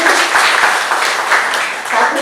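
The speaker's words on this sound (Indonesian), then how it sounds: "bisa kita berikan tepuk tangan dulu ya." An audience at an Indonesian product showcase event claps together, dense and fairly loud, sustained for a couple of seconds.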